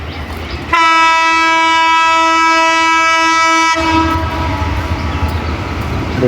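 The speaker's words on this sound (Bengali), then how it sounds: "ওই যে সামনে ট্রেন আসতেছে," Train approaching with a loud sustained horn blast lasting about three seconds, followed by the rumble of the passing train.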